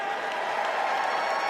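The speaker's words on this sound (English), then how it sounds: "Like 2 people are cheering." A large convention crowd at a political gathering applauding and cheering in a steady, dense wash of clapping, loud and continuous throughout with no distinct voices.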